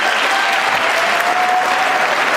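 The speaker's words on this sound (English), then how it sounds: "What is this cheering?" Dense, loud applause and cheering from a crowd at a live event rolls on steadily, with a faint whistle-like tone drifting through the clapping and no clear speech.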